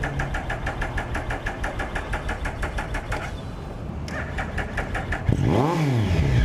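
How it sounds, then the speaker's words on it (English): A 2012 Triumph Speed Triple R motorcycle engine idles with a steady, rapid pulsing, dips briefly, then revs up sharply and falls back near the end, close and loud. "Rev it a little bit."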